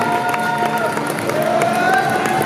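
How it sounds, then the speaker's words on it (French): A crowd at a cosplay show cheers and applauds as a Harley Quinn cosplayer steps forward, a dense continuous roar of clapping and voices with speech on top. "Tu peux t'avancer sous les applaudissements du public."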